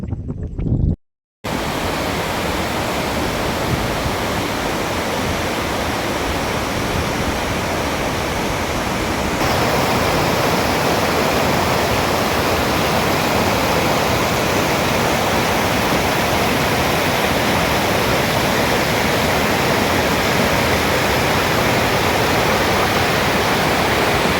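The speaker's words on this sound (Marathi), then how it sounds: "पाण्याचा विसर्गसुद्धा मोठ्या प्रमाणावर सध्या वाहताना पाहायला मिळतोय" Water discharge pours from a lake in Beed, rushing loudly and steadily like a waterfall as a broad, unbroken roar, close and continuous after a brief gap at the start.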